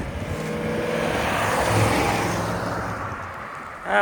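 A 1989 Cadillac Allante engine, after injector replacement and suspected of running rich, revs at wide open throttle. It gives a loud, sustained close-up roar that builds, holds and then eases off, with a brief sharper noise at the end.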